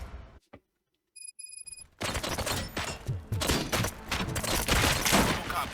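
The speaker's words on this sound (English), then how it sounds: "Gunshots? What's going on?" Rapid gunfire erupts in the video game RoboCop: Rogue City, sustained and loud after a couple of quiet beeps, filling the rest of the moment with dense shots and impacts.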